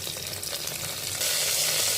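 Curry leaves drop into hot oil for pappu pongal, with a steady, close sizzle that jumps sharply louder and brighter partway through as the leaves hit the pan.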